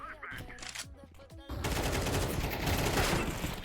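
AK rifle gunfire in a first-person shooter video game, a dense continuous burst of automatic shots filling the second half after a brief stretch of game sounds, loud and close.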